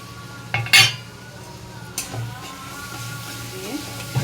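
A utensil stirs and scrapes ground coriander, cumin, chili powder and water in a pot, with a few sharp metallic clinks and softer scrapes close by. A person talks in between.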